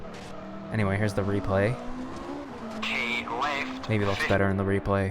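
Rally car in the RBR video game pulling a handbrake turn, engine droning loudly as the tyres skid and squeal, while someone talks over it.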